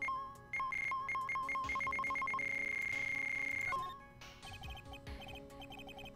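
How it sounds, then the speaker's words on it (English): Cell phone ringing in Phoenix Wright: Ace Attorney - Justice for All: a rapid electronic beeping ringtone pattern, then a long sustained tone, followed by quieter chirpy beeps. "That was a cell phone?"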